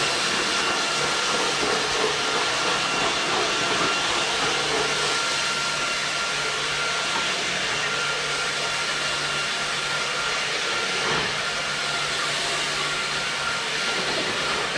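A Vortex Light machine drives a floor-cleaning brush head on tile, giving a loud, steady whooshing roar that holds unbroken for the whole stretch, with no voices.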